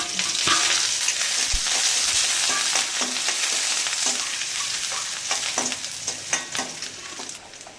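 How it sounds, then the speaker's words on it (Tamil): Mustard seeds, onion, green chilli and curry leaves fry in hot oil for a banana flower kootu, giving a dense close crackling sizzle with light stirring clicks that eases slightly toward the end. "இப்போ கடுகு போட்டுக்கலாம் வெங்காயம் போட்டுக்கலாம் பச்சை மிளகா கருவேப்பிலை"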